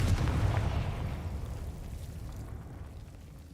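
A Confringo fire-blast spell explodes in the Hogwarts Legacy video game, giving a loud, rumbling boom with heavy low-end crackle that fades steadily over a few seconds, with no voices.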